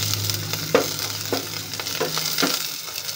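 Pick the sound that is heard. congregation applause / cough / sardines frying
sardines frying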